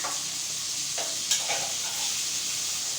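Rice sizzles steadily as it fries in a pan, with a few brief scraping stirs rising over the constant close, bright frying hiss.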